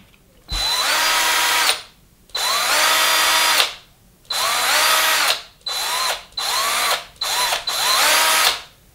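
A Lidl Parkside cordless drill spins at its lowest speed setting in six loud bursts of whirring, each lasting about one to two seconds and separated by short pauses, with a faint click at each start and stop.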